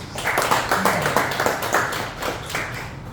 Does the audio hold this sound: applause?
yes